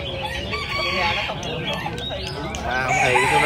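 Roosters and other chickens at a 2019 chicken show in Hoc Mon, Ho Chi Minh City, crow and cluck repeatedly amid a busy crowd, with people talking over the birds throughout.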